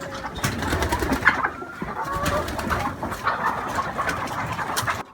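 A poultry house full of laying hens on an egg farm gives off a loud, constant chorus of clucking, cooing and chattering birds, with no voices over it.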